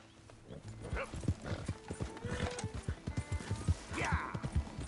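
A horse in Red Dead Redemption II gallops with rapid rhythmic hoofbeats, close and moderately loud, with a brief whinny-like snort partway through and near the end.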